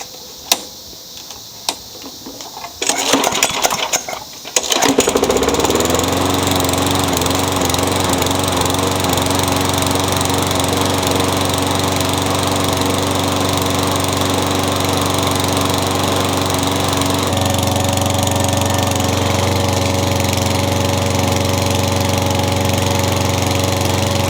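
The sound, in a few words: Craftsman lawn mower engine running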